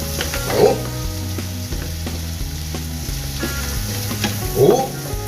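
Bopis being stirred in a hot frying pan sizzles steadily, with a couple of louder scraping stirs of the utensil near the start and end.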